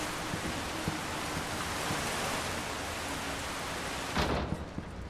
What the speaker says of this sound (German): Warum regnet es eigentlich?